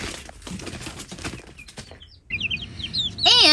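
Five-week-old chicks, some young roosters among them, flap their wings in a brief rustling burst, followed by sharp high cheeping and chirping that grows louder near the end.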